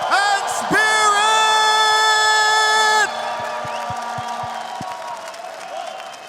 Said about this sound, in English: Astana, make some noise for your next team through to the semi-finals.